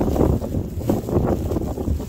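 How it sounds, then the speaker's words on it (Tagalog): Strong wind during a heavy Toronto snowstorm buffets close and loud in continuous rumbling gusts, with a voice talking faintly beneath it. "Yan ang gagaling yung hangin oh."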